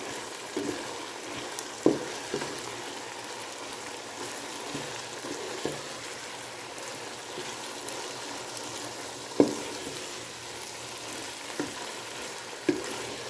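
Spaghetti seasoned with black pepper being stirred in a hot pan, a steady sizzle of frying with occasional sharp clicks and scrapes of the utensil against the pan, no voices.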